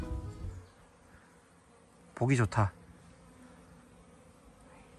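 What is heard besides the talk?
honeybees buzzing at a natural pond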